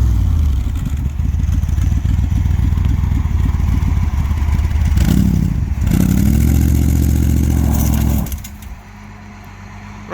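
A 1970s Dodge street machine van's engine revs loud and close through its side pipes, a rough, steady roar that surges mid-clip and then drops sharply to a lower idle near the end.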